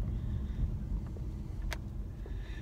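Car slowing down and pulling over, a steady low engine and road rumble from inside the cabin with faint wind noise and a few light clicks, with no talking.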